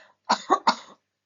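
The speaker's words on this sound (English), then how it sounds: "Shall we practice that together with a pretend cough?" Three quick, close pretend coughs in a row, dry and distinct, followed by silence.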